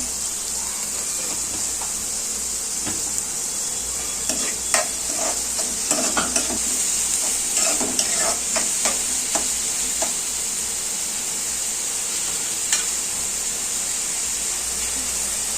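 Salted onions fry in a pan for a radish, chana dal and coconut curry, with a constant close sizzle and hiss broken by scattered scraping stirs and light clinks, busiest in the middle stretch.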